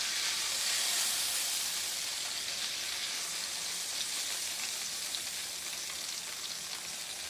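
Meat browning in a hot pan on a home stove, a steady close sizzle and frying hiss that holds at an even level throughout with no talking.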